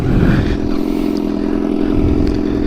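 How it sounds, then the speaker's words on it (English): A 2015 Suzuki GSX-R600 with an SC Project slip-on exhaust runs close by, its engine holding a steady, raspy drone with slight clattering and no speech over it. "this is my 2015 Suzuki Gsxr600 with an"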